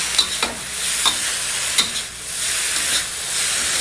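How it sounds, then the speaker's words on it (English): Carrots and bean shoots stir-fried briskly in a very hot pan give a steady loud sizzle and hiss, broken by sharp scraping strokes of the utensil every second or so, with no talking. "Now we have to briskly stir fry these vegetables"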